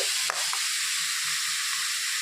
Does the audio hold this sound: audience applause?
no